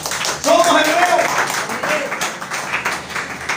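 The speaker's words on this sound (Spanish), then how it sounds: "Démosle un aplauso a él." A Hebrew-roots congregation applauds during a Sabbath teaching, a steady crowd of clapping hands that swells and carries on beneath someone speaking loudly over it.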